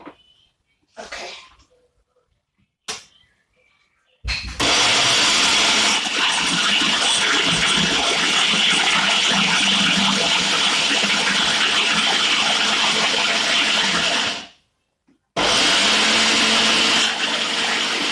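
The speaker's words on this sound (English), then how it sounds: "Now this is a 2-level blender" A two-level blender whirs loudly and continuously for about ten seconds blending plantain, stops briefly, then starts again, after a few short knocks and bumps at the beginning.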